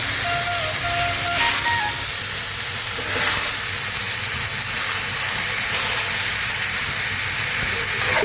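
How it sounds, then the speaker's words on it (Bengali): Pangas fish is sautéed in a pan, cooked with puishak greens. A loud, close, continuous sizzle and hiss of frying runs steadily through the whole stretch with no talking. "মাছটা আমি ভাজি নেই মাছটা আমি কষিয়ে নিতেছি"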